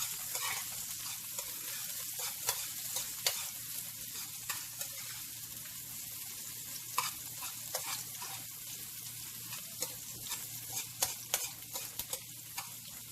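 Onions fry in a pan for curry shrimp, a continuous soft sizzle broken by frequent sharp spatula scrapes and taps as they are stirred, with a low steady hum underneath.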